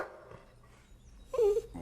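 Golden retriever dog in a movie giving a single short bark near the end after a faint whimper, close and fairly loud against quiet surroundings.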